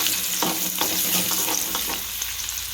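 Chopped ginger and green chillies hit hot oil, producing a close, steady sizzle with a few short stirring scrapes that eases slightly toward the end.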